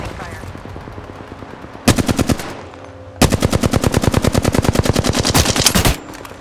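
Automatic weapon fire in Apex Legends, two loud rapid bursts: a short one of about a second, then a sustained stream of evenly spaced shots lasting nearly three seconds, with faint background sounds between.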